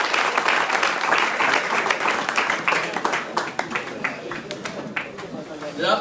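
Church congregation breaking into loud, dense applause during a worship service, a continuous wash of many hands clapping with crowd voices mixed in, ending in a few sharper distinct claps.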